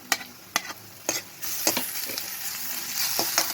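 Crushed ginger, garlic and chili hit a pan of browned onions and sizzle steadily, with several sharp spatula scrapes and stirs at first, then a louder, continuous frying hiss close by.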